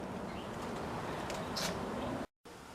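Pigeons or doves cooing outdoors, faint and distant, heard as a soft low murmur over steady background noise with a brief higher chirp.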